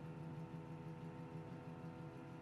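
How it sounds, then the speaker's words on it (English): A 1957 Chevrolet 3200 pickup truck idles at a traffic light, its engine giving a steady low rumble with an even pulsing beat, alone and fairly quiet with no talk over it. "the truck has a nice rumble to it when you want to step on the gas"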